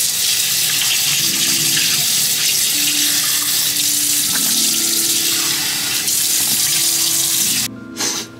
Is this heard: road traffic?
no